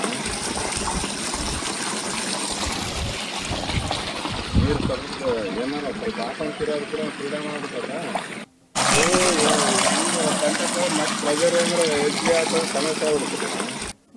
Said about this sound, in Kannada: ಕೊಳವೆ ಬಾವಿಗಳು ಬತ್ತಿ ಹೋಗಿದ್ದವೆಲ್ಲವೂ ಕೂಡ ಈಗ ಅಲ್ಲಿ ನೀರು ಫುಲ್ ಆಗಿದೆ, ಉಕ್ಕಿದಂತಹ ನೀರು.